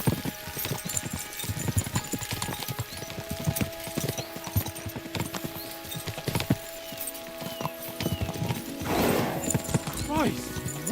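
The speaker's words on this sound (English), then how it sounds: "We should spur the horses on." Horses gallop with rapid clip-clop hoofbeats in the medieval game Kingdom Come: Deliverance 2, steady and close, with a horse whinnying near the end amid background game sounds.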